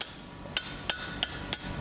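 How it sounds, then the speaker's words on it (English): Five sharp, ringing metallic taps of a blacksmith's hammer straightening a forged J-hook, at a steady, even pace, close and clear against a quiet background. "give it a touch of the hammer"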